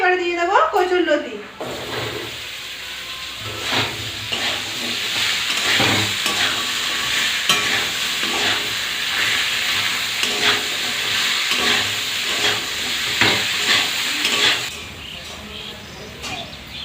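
Arum lobe stems stir-frying in a cooked-down spice paste in a pan, a loud continuous sizzle with repeated scraping stirs, opening with a brief voice before the frying takes over.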